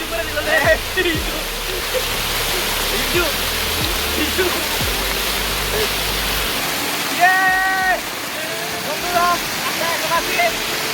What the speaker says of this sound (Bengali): এই ঝর্ণাটা আগের থেকে একটু বেশি বড়